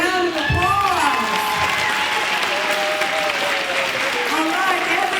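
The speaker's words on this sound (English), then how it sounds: "Let's give them a big round of applause." School audience applauding student performers at an elementary school show, a dense wash of clapping with cheering and children's shouts, while a voice talks over it near the start and end.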